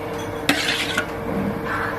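Spoon stirring homemade jelly drink in a glass, with a sharp clink of the spoon against the glass and another soft tap a moment later over steady background noise.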